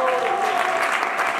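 A church congregation applauding and acclaiming Jesus: dense, loud, continuous clapping from a crowd, with voices mixed in.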